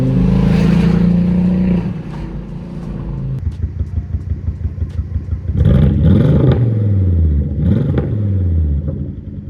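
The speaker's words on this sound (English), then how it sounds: "The car is running like garbage right now." A Volvo V70R engine runs roughly while missing a cylinder, its uneven idle stumbling and popping in a lumpy rhythm, with loud close revs that rise and fall and break up under load.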